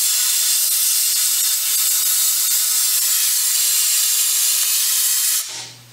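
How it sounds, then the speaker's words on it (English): Compressed air blasts steadily through the action of a black powder cartridge rifle from the breech end, a loud, continuous, close hiss lasting several seconds before cutting off abruptly. "we'll start blowing from the breech end, so if there's any residual moisture, it goes out the muzzle instead of back into the action"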